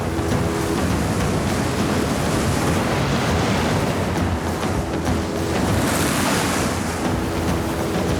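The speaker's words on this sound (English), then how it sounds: "the locals keep a careful eye on one of the world's most dangerous waves" Heavy ocean surf off Tahiti breaking in a continuous roar, with strong wind buffeting throughout and no clear gaps between the waves.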